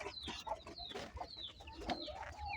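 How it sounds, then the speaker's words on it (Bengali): Tiger breed chickens and roosters in a farm shed cluck softly and intermittently at close range, with short overlapping calls and light background noise. "পাঁচটা টাইগার মুরগির রাতা আপনারা দেখতে পাচ্ছেন কিনা আমি জানি না"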